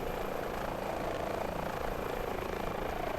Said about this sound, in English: I'm just here, and the helicopter's doing all the work.